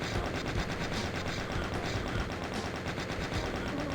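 Constant rapid automatic gunfire from shooting enemies in the video game Doom Zero on a testing-labs map, a dense, unbroken rattle filling the whole stretch.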